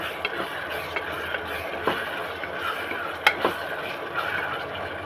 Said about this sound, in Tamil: இது கூடவே கொஞ்சமாக நான் இஞ்சி பூண்டு பேஸ்ட் சேர்த்துக்கிறேன்